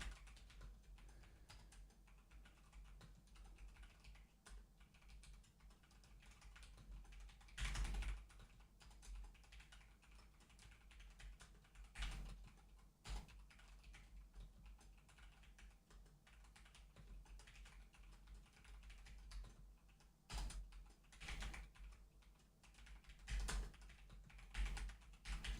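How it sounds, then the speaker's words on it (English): Steady, fast typing on a computer keyboard during a typing test, quiet and close, with rapid clicking keystrokes running throughout and a few louder bursts of key strikes, no talking. "Getting so sweaty over a typing test."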